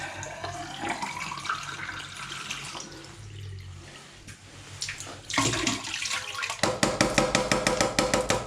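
A hot water tap runs steadily into a sink, a continuous splashing rush that shifts in tone partway through and turns into a rapid rhythmic rattle toward the end, with no talking.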